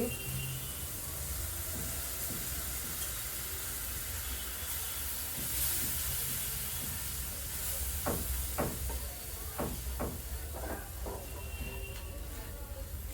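Beaten sour yogurt goes into a hot frying pan with cooked onion stalks, setting off a steady hiss of sizzling, with soft clatters of stirring toward the end.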